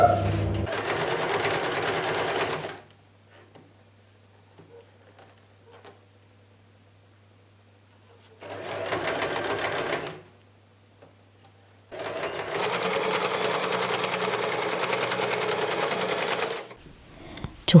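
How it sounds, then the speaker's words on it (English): A sewing machine stitches a small fabric curtain in two bursts of steady, close mechanical whirring, the first brief and the second longer, separated by quiet pauses. "I sewed this super cute little curtain."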